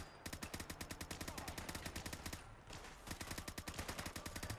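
An M4A1 rifle in the video game Fallout 4 fires in fast, evenly spaced automatic bursts, each shot sharp and punchy up close, with one brief pause mid-stream before the rattling resumes.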